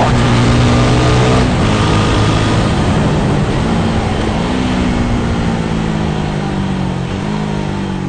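A Husqvarna Vitpilen 401 motorcycle engine revs hard and accelerates up close, the loud, continuous note climbing steadily in pitch with a brief dip at a gear change, and no voices.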